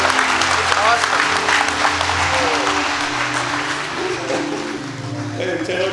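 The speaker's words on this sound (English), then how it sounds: "They're clapping for you." A congregation applauds after a church baptism, with continuous clapping filling the room while a voice talks over it close to the microphone.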